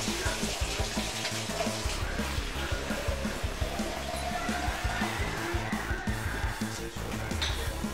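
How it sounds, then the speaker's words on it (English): Tap water running steadily into a container, a continuous close splashing rush with no talk over it. "So I will just go fill this up with some water."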